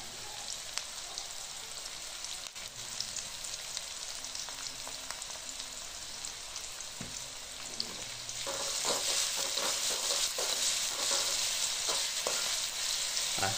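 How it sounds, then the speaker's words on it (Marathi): Chopped onion sizzles and fries steadily in a pan with salt, sautéed for a mixed vegetable dish for Bhogi; a continuous close crackle that grows louder and busier in the second half, with no talking. "मीठ घालून द्यायचं म्हणजे कांदा लवकर होते, परतते"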